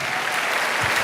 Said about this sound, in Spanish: yo pensé que iban a aplaudir más que eso